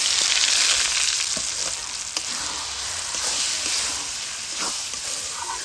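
Semolina dough and raw potato sizzle and fry steadily in a hot pan of oil with toasted black mustard and black cumin seeds, a loud continuous crackle with brief stirring clicks and no talking.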